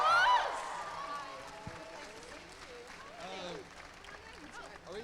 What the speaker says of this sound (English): Round of